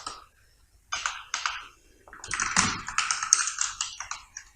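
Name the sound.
typing HTML code on a computer keyboard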